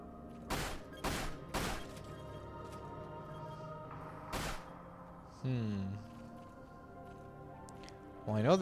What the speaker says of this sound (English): I must shoot to disable mines